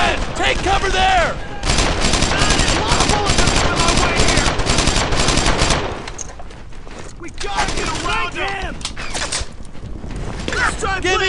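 Brothers in Arms: Earned in Blood battle, with sustained loud machine-gun and rifle fire at close range, then a slight drop and renewed shooting, while soldiers shout orders over the racket.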